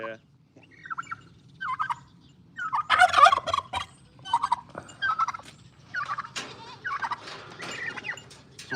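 Turkeys gobble repeatedly in bursts at close range, the calls rising and falling in uneven rhythm with brief pauses, over a low steady background rumble.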